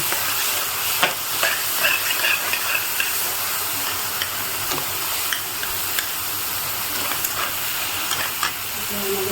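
Masala for paneer curry fries in hot oil with a steady, close sizzle and hiss. Light stirring clicks and taps cut through the sizzle at irregular moments.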